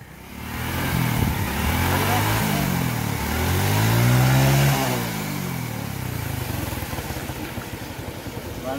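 A homemade jugaad motorcycle engine revs up and falls back, rising to a loud peak midway before settling into a steady drone, with people talking nearby.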